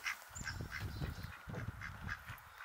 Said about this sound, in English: Ducks won't leave us alone right now.